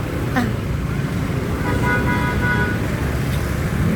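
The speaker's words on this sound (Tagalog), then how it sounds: "Grabe yung traffic" Busy road traffic in Bagbaguin, Caloocan rumbles steadily nearby, with a brief car horn toot in the middle and engines droning throughout.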